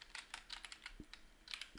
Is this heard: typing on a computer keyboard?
yes